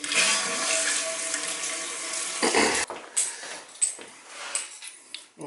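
Water runs from a Delta faucet in a home, a steady rushing hiss for a few seconds that abruptly stops, followed by scattered drips, knocks and gurgles.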